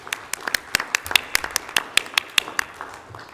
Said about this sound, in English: Could I get a round of applause for them, please?